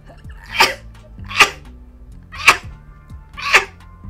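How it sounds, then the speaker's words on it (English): Four loud, close sneezes come in an even rhythm about a second apart, each a sharp explosive burst followed by a brief pause. "I don't know why I'm sneezing into my open hand."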